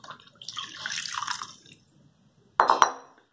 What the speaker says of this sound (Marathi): कापड पाण्यात बुडवायचं